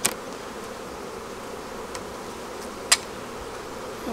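Honey bees buzz around an open hive during the nectar flow as frames are inspected, a soft steady drone close by, with a few faint clicks of handling.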